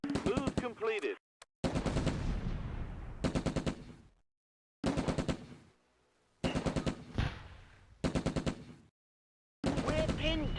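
Machine-gun fire from the Close Combat wargame, Arnhem-era battle on the Island: repeated sustained automatic bursts separated by short silences, loud and close, with brief rattling volleys and no talk.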